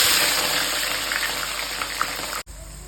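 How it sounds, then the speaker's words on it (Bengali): Onions dropped into well-heated oil for frying until browned give a loud, dense, continuous sizzling hiss that cuts off abruptly near the end. "তেলটা ভালো করে গরম হয়ে গেছে, এর মধ্যে এখন ছেড়ে দেবো পেঁয়াজগুলো বেরেস্তা করার জন্য"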